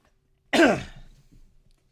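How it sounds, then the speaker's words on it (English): A single close, sharp cough bursts out and decays quickly, followed by a faint, rough tail of throat sound and then silence. "I scared her with my cough"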